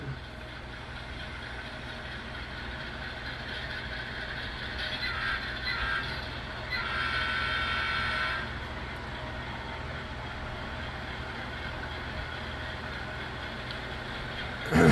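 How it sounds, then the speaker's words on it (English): A small model train hums and whirs along the track with a faint mechanical squeal, quiet and steady throughout. "So the train leaves out."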